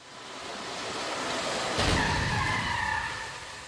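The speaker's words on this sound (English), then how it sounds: "Now here's how this model does in the side crash test without optional side airbags." A 2005 Toyota Sienna minivan without optional side airbags takes a side crash test impact: a steady rushing roar swells, then a single heavy crunching hit lands midway and rings off into a fading metallic whine.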